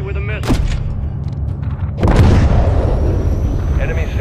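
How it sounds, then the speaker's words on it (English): Missile striking an enemy SAM site in Call of Duty MW3 on the Danger Close mission, two heavy booming blasts with the second louder and rolling into a sustained rumble, over constant battle noise. "Hit that SAM site with a missile."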